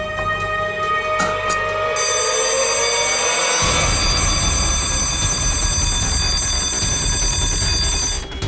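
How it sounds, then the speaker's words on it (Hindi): A loud electronic alarm rings in a panic room, sounding as steady high-pitched tones that turn into a harsher, continuous blaring partway through and hold until the end. "सर अलार्म की आवाज आई"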